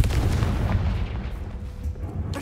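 Fiery explosion spell cast in the video game Hogwarts Legacy, heard as a loud, dense rumbling boom that rolls on for a couple of seconds with a fresh burst near the end.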